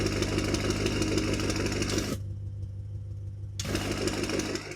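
A BMW F90 M5 Competition fitted with a valved titanium exhaust idles nearby with a loud, steady, throbbing rumble that briefly drops quieter for about a second mid-clip before returning.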